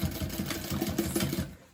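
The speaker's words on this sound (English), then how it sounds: "Sewing up my pocket now." A sewing machine stitches across the folded edge of a bag's lining pocket, a close, steady run with fast rhythmic needle pulses that stops near the end.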